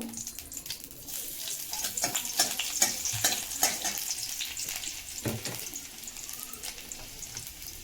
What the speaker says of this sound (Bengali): কালো জিরে ফোড়ন দিয়েছি, শুকনো লঙ্কা ফোড়ন দিয়েছি, একটা রসুন কুচানি দিয়ে দেবো